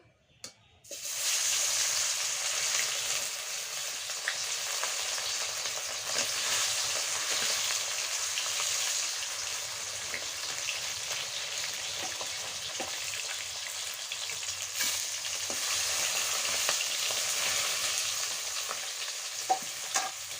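Small sor puti fish frying in pure mustard oil in a pan in a village kitchen, a steady loud sizzle that starts abruptly after a brief pause and hisses continuously throughout, with occasional pops and stirring clinks, no talking.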